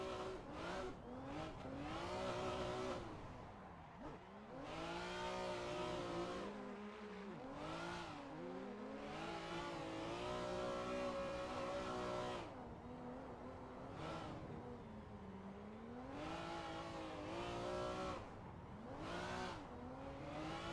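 Car engine in a racing video game from a new VDC car pack, droning at low revs and rising and falling in pitch with repeated throttle changes, heard clearly on its own without talk.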